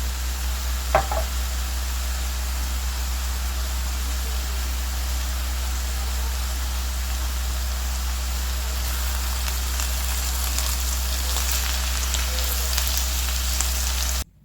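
Steady broadband sizzling from vegetables frying in a pan with salt and spices, continuous and fairly loud throughout, with a brief clink near the start and no talking.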